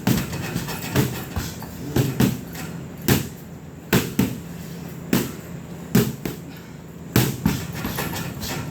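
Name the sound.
punches landing on pads in rhythm at MMA club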